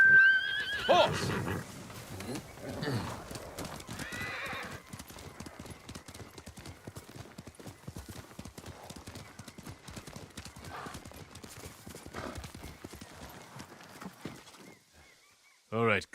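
A horse neighs at the start in the video game Ghost of Tsushima, then hooves clip-clop steadily for a long stretch, with a voice cutting in briefly at the end.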